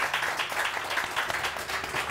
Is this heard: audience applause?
yes